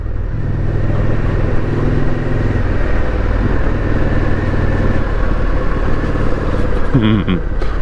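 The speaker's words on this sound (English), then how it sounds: "that's my new exhaust in the Indian, which sounds quite cool" An Indian motorcycle fitted with a new aftermarket exhaust runs steadily on a Scottish mountain road, a deep throbbing engine note with rising revs near the end, while a rider talks over it.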